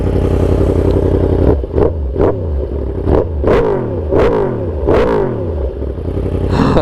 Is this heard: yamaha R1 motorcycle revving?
yes